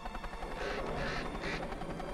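Birds squawk and flap in Alan Wake, harsh repeated cries rising over a constant loud rumble of engine-like noise and game ambience.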